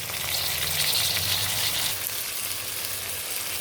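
Ginger garlic paste and tomatoes fry in a pan with a steady, close, hissing sizzle that eases slightly partway through.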